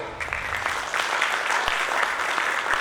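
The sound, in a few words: audience applause welcoming the speaker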